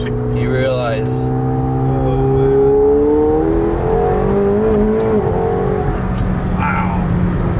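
A McLaren sports car engine revs hard while being driven, its note rising and sweeping through the gears close by, with people talking over it.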